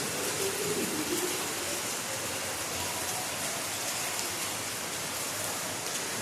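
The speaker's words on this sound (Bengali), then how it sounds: "বিশাল ঘন বৃষ্টি একদম পুরো" Heavy, dense rain pours down steadily, a loud continuous hiss filling the whole stretch without any letup, with no voices heard over it.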